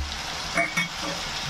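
Tomato and prawns hit a hot pan already seasoned with turmeric, chili powder and cumin powder for a yam and prawn curry, giving a steady close sizzle with a couple of brief clatters.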